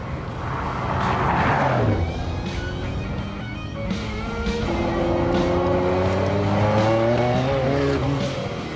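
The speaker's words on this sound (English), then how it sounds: "it's probably better to just show you how fast this car goes" A Jaguar XJ220S TWR sports car accelerates hard with spinning wheels, its engine loud and close, revving up through rising sweeps with tyre squeal early on, then pulling through further climbing gear runs.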